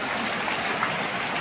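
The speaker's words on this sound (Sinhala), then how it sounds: "එතන ලොකු වතුර පාරක් එනවා" Rainwater pours through a broken roof in a steady, loud, hissing gush that fills the brief moment without pause or voices.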